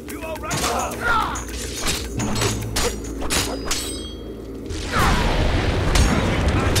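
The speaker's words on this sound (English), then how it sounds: "Attack, tornado!" A tornado spell attack in the video game Fable 2, with booming thuds, clanking mechanisms and rapid gunfire-like bursts, closing in a louder rushing roar, with a voice talking over parts of it.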